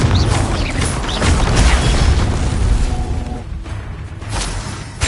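Spell blasts in Hogwarts Legacy combat erupt as loud booming explosions, several heavy bursts and crashes in quick succession, then a brief dip before another impact at the end.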